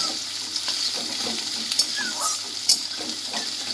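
Steady sizzling of chopped onion frying in a pan until reddish, for duck egg curry, with a few soft scraping stirs and light clinks, no voices.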